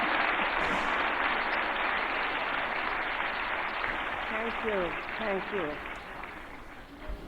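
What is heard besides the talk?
audience applause welcoming Waheeda ji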